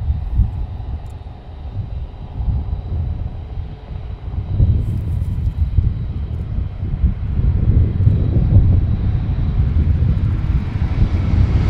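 Airliner arriving at Sydney airport on runway 34 left, a steady roar of jet engines and rushing wind that swells louder toward the end of the landing, with no voices.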